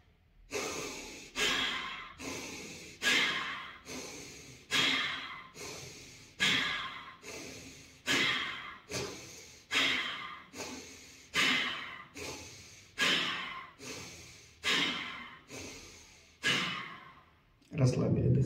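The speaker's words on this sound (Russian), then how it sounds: "Сначала мы выдыхаем, а потом начинаем активно дышать." Active breathing exercise: a long exhale followed by steady, rapid rhythmic breaths through the nose and mouth, about one strong breath every second for the whole stretch, close and alone with no talk.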